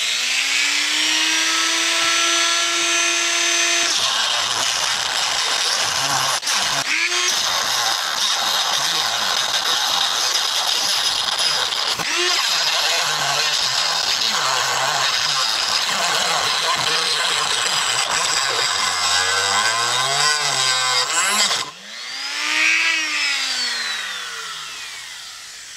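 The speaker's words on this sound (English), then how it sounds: "I'm just going to use the Dremel to cut along those lines and cut out that hole." A high-speed Dremel rotary tool cuts a hole in a metal ammo can with a loud, shrill whine. Its pitch sags and recovers as the bit bites the steel, and the motor winds down and revs again near the end.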